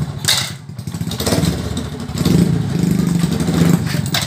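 A Honda Supra 125 motorcycle with a faulty clutch that jumps into gear is kicked over with the starter, and its engine catches and runs close by, rough and loud with rising revs.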